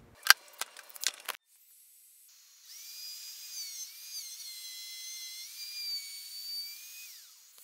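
A power tool cutting a dado in 1/2-inch plywood clamped in an adjustable dado jig. A few sharp clatters come first, then a brief quiet, then a steady high-pitched whining cut that rises and dips slightly before winding down.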